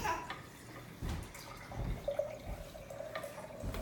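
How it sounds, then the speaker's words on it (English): Water running from a tap into a jar: a quiet, uneven trickle and splashing with soft drips and clunks, faint and close, with no voices. "take your jar, take the cover off, go and get some water"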